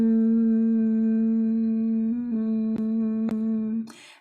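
A single person hums steadily in imitation of a buzzing bee during a bee-breath breathing exercise, one long sustained tone with rich overtones that holds for about four seconds, then breaks off at the end.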